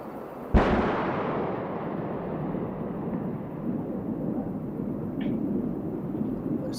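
Sonic booms from a SpaceX Falcon 9 booster landing on a flattened former launch pad at the Crew-8 launch: one sharp, loud boom followed by a long, deep rolling rumble that fades slowly.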